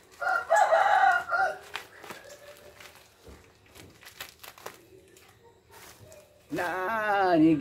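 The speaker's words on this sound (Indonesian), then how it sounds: "dia bilang tuh ayam guys" A chicken rooster crows at an outdoor garden where grapes are being planted, heard loudly at the start and again at the end, with someone talking in between.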